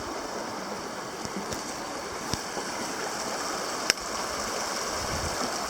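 Strongly flowing river water in the Virgin Mountains, a steady broad rushing close by, with a few faint clicks and one sharp tap near the end, no talk.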